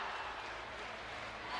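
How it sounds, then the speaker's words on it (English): Basketball fans of both teams in an arena at a women's college SEC tournament championship game, a steady distant wash of crowd noise and cheering, diffuse and continuous without distinct peaks. "Crowds from both teams just getting loud here"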